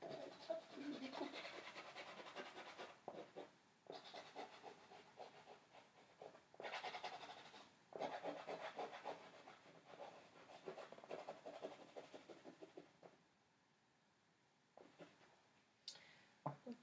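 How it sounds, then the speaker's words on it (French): Scissors cutting paper for a landscape art demonstration, a close run of crisp snipping and rustling scrapes in uneven bursts, pausing briefly near the end. "Hop, je découpe."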